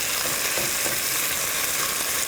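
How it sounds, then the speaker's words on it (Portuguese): Chicken thighs sizzle and fry in a pan, a dense, steady crackling hiss close up and continuous, with no voices. "Característico da fritura, né? Desse grelhar esse frango."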